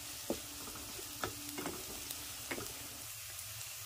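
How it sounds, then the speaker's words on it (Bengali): Spices for masala chole sizzling in a pan, a soft steady frying hiss broken by a few faint clicks of stirring, close and quiet with no talk. "এগুলো একটু কিছুক্ষণ ভেজে নেব।"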